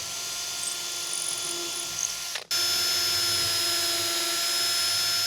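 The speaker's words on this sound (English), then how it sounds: "So what I'm doing now is I'm using the Craig jig drill bit." Steady high-pitched whine of a Kreg jig drill bit boring pocket holes in a garage workbench, running loud and continuous with a brief stop and restart midway.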